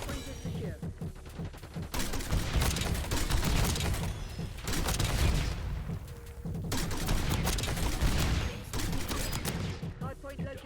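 Dense, continuous automatic gunfire in the Black Ops 6 multiplayer game, Hardpoint mode, with a Kilo 141 rifle, bursts rattling in two long loud stretches with brief lulls and some explosion-like booms mixed in.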